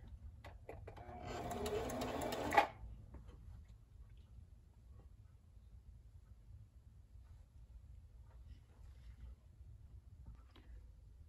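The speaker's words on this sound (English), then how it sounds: "I'm going to do 4 more stitches to tie the fabric down" A Necchi Q132A sewing machine stitches a button onto fabric in one short, fast whirring burst of about two seconds that ends with a clunk, followed by quiet room tone with faint ticks.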